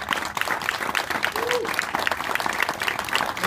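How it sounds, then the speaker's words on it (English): Dense audience applause at a political campaign event where a candidate for governor speaks, sustained clapping from a crowd throughout with faint voices mixed in. "Let's applaud all these people."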